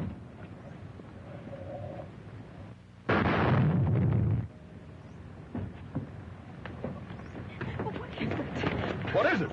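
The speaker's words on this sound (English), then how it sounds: "The motor exploded." A car engine explodes in a 1940 film scene, a sudden loud blast that lasts over a second and then fades, with talking voices and scuffling before and after it.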